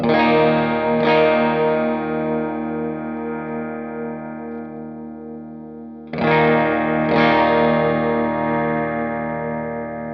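Two pairs of Telecaster Thinline electric guitar chords with the tone control rolled back ring out and slowly decay, with a softened, mellow tone and a shimmering chorus-like effect.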